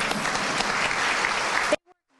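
Crowd applause for city council members at a State of the City gathering, steady loud clapping from many people that cuts off abruptly, followed by a moment of near silence.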